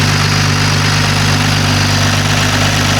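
A Toyota Supra engine idles steadily with a constant low rumble and vibration, loud and close, no voices.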